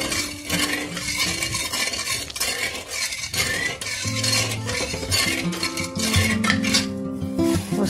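A spoon stirs sugar and water in a pot over high heat, giving steady scraping and clinking throughout, with background music present.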